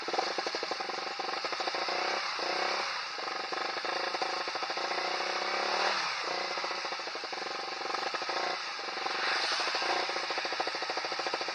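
A loud motorcycle engine fitted with a BRT Juken 5+ racing ECU idling with a rapid, rough staccato firing, revving up and down in a few surges, close by.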